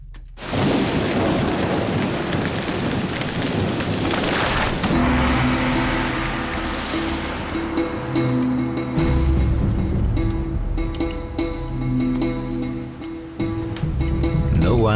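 A loud thunderstorm with heavy rain pours steadily, with deep thunder rumbles rolling through and swelling in the middle, no voices present.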